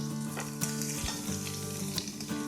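Onions and spice powders fry in a pan for chicken kuruma, a loud, close, crackling sizzle with frequent stirring scrapes and clinks, with no voices.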